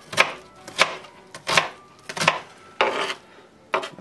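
A knife chopping onions on a board for chili, about six sharp, close chops in an uneven rhythm with quiet pauses between them, no talking.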